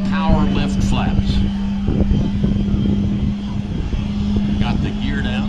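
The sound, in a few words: C-17 Globemaster aircraft slowing down in flight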